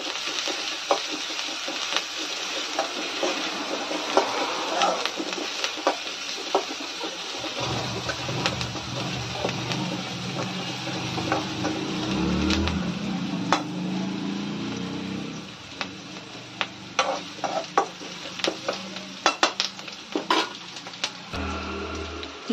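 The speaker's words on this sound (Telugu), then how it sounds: "ఉల్లిపాయలు ఇలా మగ్గుతున్నాయి కదా" Sliced onions and curry leaves fry in a pan, giving a soft, continuous sizzle broken by scattered clicks and scrapes of stirring, with no talking.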